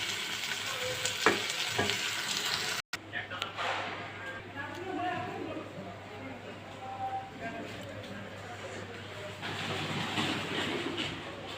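A steady sizzle of prawns frying in spice paste for a coconut prawn dish, with occasional stirring scrapes and a brief break near the start, heard close with a faint voice underneath.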